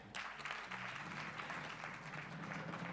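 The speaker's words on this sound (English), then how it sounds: "A round of applause for him again." Applause from an audience at a diplomatic awards ceremony in Kenya, sustained even clapping at a faint, distant level, continuing steadily without a break.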